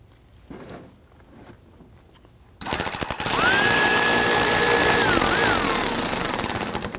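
A power tool drives screws into the fender liner of a Volvo XC60, starting suddenly after a few quiet seconds and then running loud and steady, with its pitch shifting as the screw seats.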